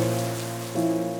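Rain falls steadily in misty Peak District countryside, a continuous soft hiss with a low steady hum underneath and no voices.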